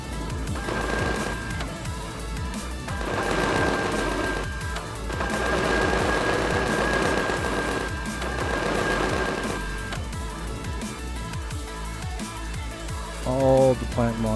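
Rapid automatic turret gunfire in the sci-fi survival game Empyrion: Galactic Survival, sustained bursts of loud mechanical shots with short pauses between volleys and game music running underneath.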